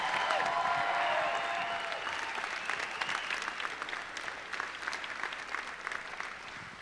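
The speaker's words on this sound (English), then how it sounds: "Let's give it up one more time for Brian Ace." Sustained audience applause at a dinner event, loud and dense at first, then easing slightly while continuing steadily throughout.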